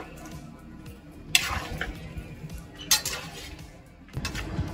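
A spoon scrapes and clinks against a cauldron of merchant-style buckwheat porridge cooking over a campfire, with a few distinct metallic stirring strokes spaced a second or so apart against a quiet background.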